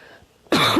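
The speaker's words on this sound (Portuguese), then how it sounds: "Tô tossindo demais esses dias" A single loud, harsh cough bursts out abruptly after a short quiet stretch, close to the listener.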